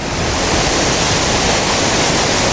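Uyun al-Samak waterfall in Akkar, northern Lebanon, roars steadily nearby, a loud, dense, unbroken rush of falling water with no voices.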